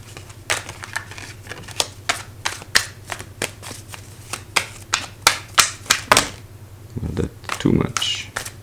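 Tarot cards are handled and shuffled up close, making a quick, steady series of crisp snaps and flicks. A softer riffling flutter follows near the end.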